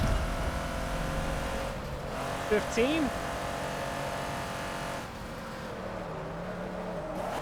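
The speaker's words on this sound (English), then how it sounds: "I heard some cars buzzing there in my right ear." Race cars in a Forza Spec Racing Series race, a steady engine drone with brief higher whining engine notes as cars buzz past, under a voice talking.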